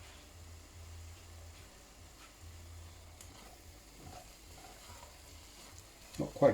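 Onions and spices for a lamb curry fry quietly in a pan, a soft steady sizzle with faint stirring clatter near the end.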